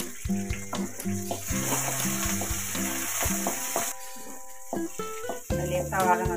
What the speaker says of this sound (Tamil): கருவேப்பிலை 1 சொத்து இதில் போட்டு வதக்கலாம்.